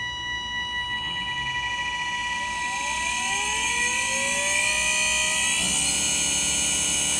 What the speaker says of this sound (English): You should be able to see the motor shaft turning, and you could hear it.